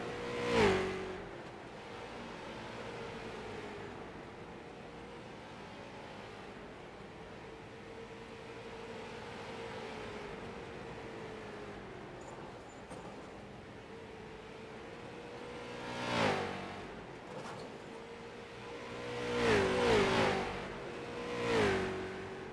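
Street stock race cars roar around the oval at the Nashville Fair, a continuous engine drone with several louder passes swelling up close near the end.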